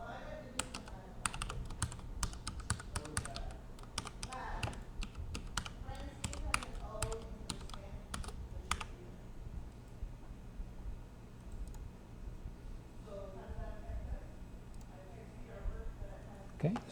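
Rapid clicking keystrokes of a password being typed on a computer keyboard, a dense irregular burst for about eight seconds that then thins to quieter scattered taps, close and fairly soft, with a voice speaking faintly in the background.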